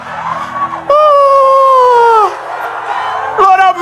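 A church congregation at a prayer service screams and yells together in loud, sustained voices, with one long cry rising above the crowd before the noise swells again.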